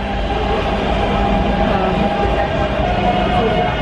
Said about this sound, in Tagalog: Dalawang palapag yung mga mga train. MRT.